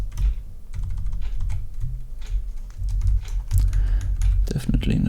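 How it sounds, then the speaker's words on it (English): Rapid, steady typing on a Windows computer keyboard, close and continuous clicking of keys with someone talking over it. "Definitely not used to Windows keyboards."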